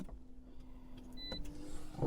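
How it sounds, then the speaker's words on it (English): A Toyota Yaris VVT-i Excel powering up through its push-button start: a steady electric hum sits close by while a brief, clear high chime sounds partway through, with no talking. "Now this car features a push to start system"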